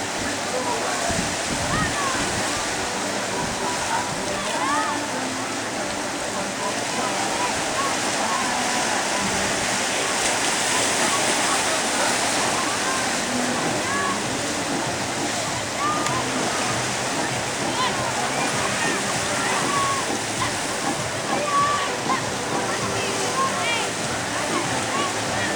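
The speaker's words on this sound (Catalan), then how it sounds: "Hi ha onada" Sea water rushes and splashes continuously around fixed-bench rowing boats racing in a regatta off Lloret de Mar, a loud, steady wash with voices faintly mixed in.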